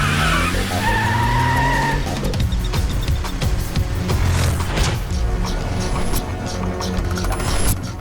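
A car's tires skid and squeal through a sharp turn in an action scene, loud and continuous over engine roar and a sustained music-like backdrop, with no talking.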